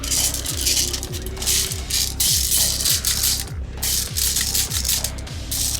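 An airsoft gun's tuned gearbox fires on full auto, a loud, close, rapid ratcheting chatter of gears and piston strokes repeating evenly at roughly two cycles per second over the whole stretch.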